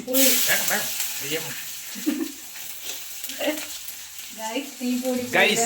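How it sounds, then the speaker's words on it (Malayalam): Two dried red chillies, with cumin and onion, fry in hot oil, giving a steady sizzle and occasional stirring scrapes close by. A person talks over much of it. "ഉണക്കമുളക് 2 എണ്ണം ഇട്ട് കൊടുക്കാം"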